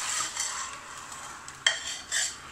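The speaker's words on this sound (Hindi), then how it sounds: "अब इसको 1 से 2 मिनट अच्छे से तलेंगे" Meat browns in a pot with salt for biryani, giving a steady bright sizzle with a few sharp clinks of a spoon stirring against the metal; no one talks.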